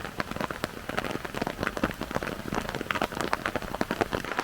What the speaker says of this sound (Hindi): एक दफ़ा फिर बारिश जो है तेज़ हो गई है।